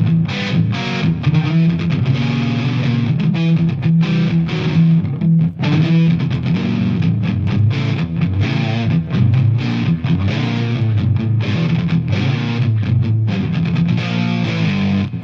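Loud distorted electric guitar playing a riff in two-note chords with upside-down picking, steady and continuous with a driving picked rhythm.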